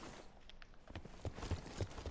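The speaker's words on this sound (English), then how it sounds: "I hear some footsteps not too far away." Footsteps in a video game: soft, evenly spaced steps close by, fairly faint and thudding, with no talking over them.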